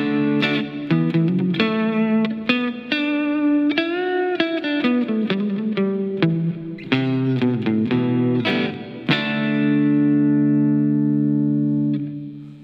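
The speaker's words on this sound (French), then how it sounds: "Oui, c'est sûr, Baridon, ça, c'est une guitare juste électrique." Electric guitar played through an effects plug-in, picked notes and chords with a bright, processed, slightly distorted tone, ending on a long sustained chord, loud and close with no talking.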